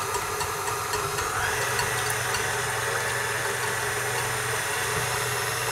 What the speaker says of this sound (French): On va maintenant monter les blancs en neige très ferme.